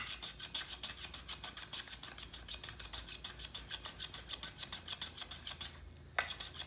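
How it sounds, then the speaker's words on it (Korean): A round wooden pole with an entasis swell carved by hand, a tool rasping over the wood in quick regular strokes, close and steady, ending with a brief knock. "이렇게 해서 이 부분들을 깎아 주시면"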